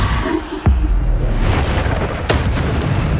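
Booming spell explosions from the Hogwarts Legacy video game, with loud heavy blasts and a sharp burst over continuous rumbling combat noise.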